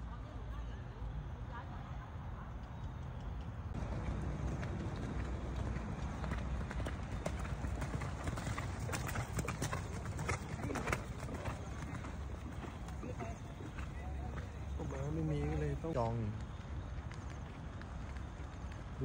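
A horse walks with steady rhythmic clip-clopping hooves at the queen mother guard riding grounds, fairly near, while people talk and a brief whinny-like sound appears.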